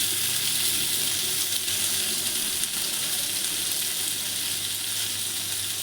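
Prawns frying in oil in a pan, a steady bright sizzle that crackles continuously and evenly from close by with no one talking.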